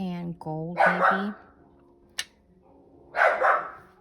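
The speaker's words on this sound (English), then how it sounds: "Pardon my dogs." A dog barks a few times nearby, then barks again after a pause, while a person speaks briefly in between.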